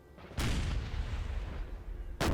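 Artillery cannons fire in the Napoleon Total War game with Prussian forces, a heavy boom opening into a long rumbling roll, then a second sharp blast at the end, loud and alone.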